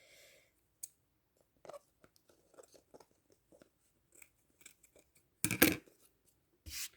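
Scissors trimming the overhanging edge of a moss foam mat for an Easter table decoration, a scattering of faint, close snips and small crunching cuts with quiet gaps, ending in a couple of louder rustles.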